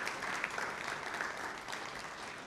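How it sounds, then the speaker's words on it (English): An audience at a Socorro ISD school board meeting applauds the district's Financial Services Department, a steady wash of many hands clapping at moderate level, continuous for the whole stretch with no talk over it. "please, a round of applause"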